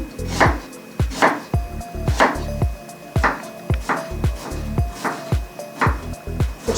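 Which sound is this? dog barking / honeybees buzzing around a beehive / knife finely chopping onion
knife finely chopping onion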